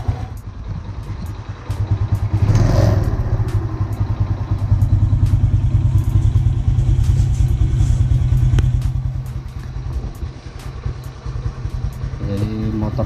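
A Honda Astrea Grand motorcycle fitted with a Supra X125 carburetor idles at about 1000 rpm, its single-cylinder engine putting out a steady low, rapid putter with mechanical clatter up close and a slight swell in the middle.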